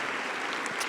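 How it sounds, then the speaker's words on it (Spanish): Brief burst of congregation applause at a Sunday church sermon, a dense steady wash of clapping at moderate level with no voices over it. "Dale un aplauso al Rey de Reyes y al Señor de Señores"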